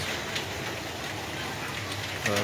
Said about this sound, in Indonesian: Untuk saat ini di Kota Pelopa yang terjadi hujan